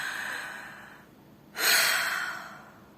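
Deep, deliberate breaths are demonstrated up close: a long audible exhale fades into a brief pause, then a sharp, forceful inhale rushes in and slowly tapers off, with no speech.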